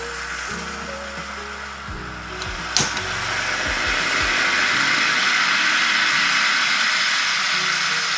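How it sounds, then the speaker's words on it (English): A Bialetti Brikka moka pot brews on the stove with coffee spewing from its chimney, a rising steady hiss and gurgle that builds after a few clicks and knocks, close, with no talk. "now the coffee is starting to come out of the chimney"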